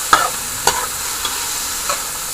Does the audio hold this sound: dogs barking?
no